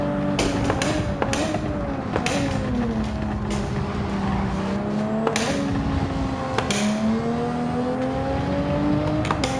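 Race car engine screaming at high revs, pitch dipping and climbing through gear changes while exiting a chicane, with sharp transient clicks throughout; loud and close, no talk.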